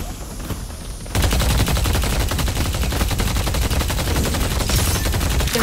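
Sustained automatic gunfire in the video game Deadlock: after a quieter opening second, a loud, rapid, unbroken stream of shots fills the rest of the clip.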